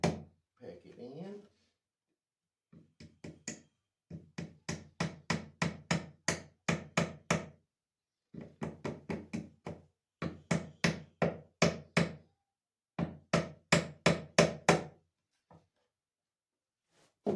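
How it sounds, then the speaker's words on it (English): Rapid bursts of hammer taps driving a sawtooth hanger into wood, sharp and close, in quick runs of about ten strikes separated by brief pauses. "Then take your hammer"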